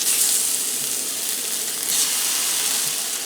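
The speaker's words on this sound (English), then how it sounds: "I'm going to put them chops in there and get them all nice and browned up on both sides" Pork chops browning in a hot pan, a loud, close, steady hissing sizzle that swells slightly midway, alone without voices.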